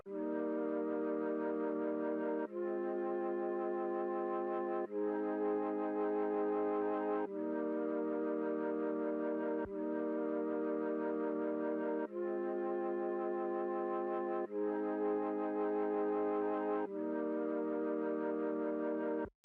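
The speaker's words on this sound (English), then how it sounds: "But first of all is a flute sound that sounds like this." A synthesized flute patch in an Afrobeats instrumental made in FL Studio plays sustained chords. The chords change every couple of seconds in a smooth, steady progression with no pauses, heard alone at moderate volume.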